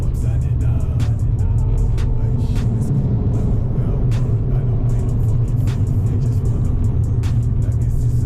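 A Fiat 500 accelerating hard from first gear on a road, its engine a steady, loud rumble close up that holds across the whole stretch with little change in pitch.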